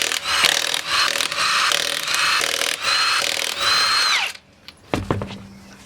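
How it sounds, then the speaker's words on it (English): Impact wrench fitted with a non-impact socket loosening 7/8 lug nuts on a Duramax diesel Chevy Colorado, a loud sustained whirring burst of about four seconds followed by a couple of short clicks and knocks. "Using an impact with a non-impact socket."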